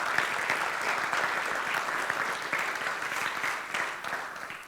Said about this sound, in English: So, an applause for Yuta Asano